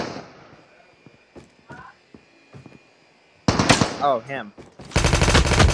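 Automatic gunfire in the Call of Duty Mobile video game: a few faint shots, then loud, close bursts of rapid fire, with a short spoken exclamation between them.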